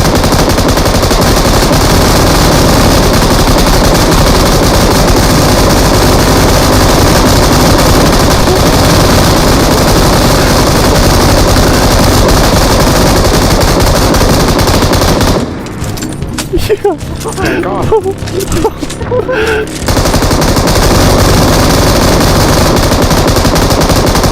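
Sustained, loud automatic fire from an M249 machine gun in the mobile game PUBG Mobile, dense bursts running nearly continuously and breaking off briefly near the end with a short lull of scattered sounds.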